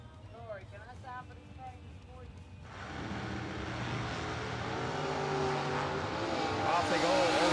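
Drag race cars, one a Corvette Roadster, launch side by side at a drag strip, going from quiet to a loud, rising roar of revving engines as they pull away, with an announcer talking over the start.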